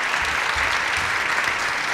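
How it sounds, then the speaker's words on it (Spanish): An audience at a panel debate applauds the panelists, a dense, steady burst of clapping from a room full of people. "démosle un aplauso"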